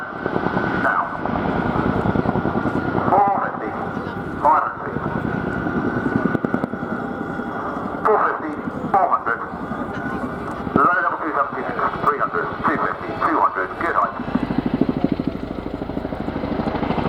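Display aircraft sweeping overhead at the Royal International Air Tattoo 2022 air show, a continuous engine roar that swells and fades under steady public-address commentary.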